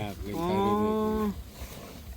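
A cow on a Thai farm gives a single strong, tonal moo lasting about a second, close and clear, followed by quieter rustling farm ambience.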